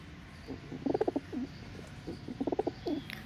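Pigeons, among them a Nafta Cheena pigeon, give two bursts of throaty, pulsing coos close by, with quiet outdoor ambience between them and no talking.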